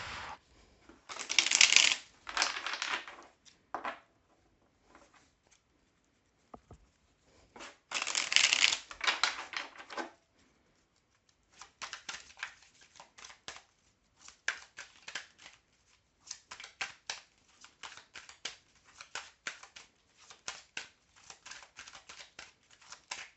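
Tarot cards shuffled by hand in close, crisp bursts of riffling and slapping, two long flurries followed by a run of shorter, scattered shuffles and taps, with no talking.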